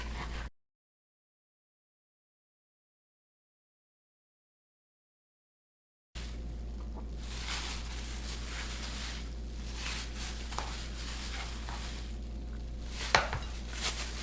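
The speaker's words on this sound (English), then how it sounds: "So let's just cut this into bite size." After a stretch of silence, a knife cuts pork into bite-size pieces on a board, with repeated short chops and knocks over a soft background hiss.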